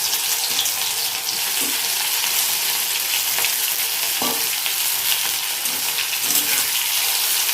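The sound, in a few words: marinated okra frying in hot oil in a wok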